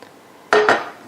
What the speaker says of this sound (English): I'm melting some butter here in my pan